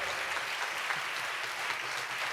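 An audience at a symphonic concert claps for the orchestra crew, giving dense, even applause that stays steady and fairly loud for the whole stretch.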